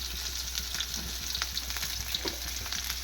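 Onions and green chillies fry in a pan with a loud, close, continuous sizzle, dotted with small crackles and faint stirring clicks.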